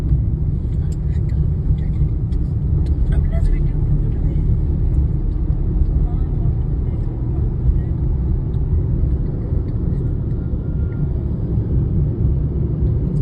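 A car drives into the Rann of Kutch, its steady, loud, low engine and road rumble running continuously throughout.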